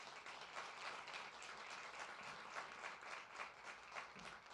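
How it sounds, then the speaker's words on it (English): An audience at a NASA briefing on the Mars InSight landing gives presenters a steady, fairly faint round of applause, dense and even throughout. "Let's give our presenters a nice round of applause."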